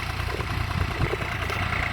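A tractor brought in to sow onion seed on a village farm idles close by with a steady, low engine rumble and faint vibration throughout.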